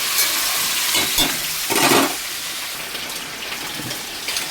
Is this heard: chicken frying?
yes